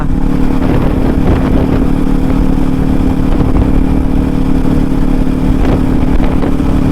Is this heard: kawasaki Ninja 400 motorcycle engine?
yes